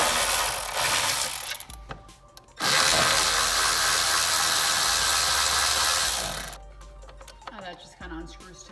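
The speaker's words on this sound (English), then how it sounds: "Now we're gonna remove the 3 8-millimeter bolts holding the PCM to the truck." Ratchet wrench backing out three 8 mm bolts that hold the PCM in a 2019+ Ram 1500 5.7L pickup, heard as two long bursts of loud, close, rapid clicking separated by a brief pause, followed by quieter handling noises.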